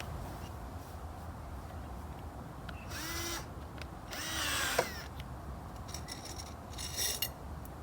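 A power drill drives screws outdoors in a no-dig potato garden. Two or three short, faint whirring bursts rise above a quiet, noisy background, separated by pauses.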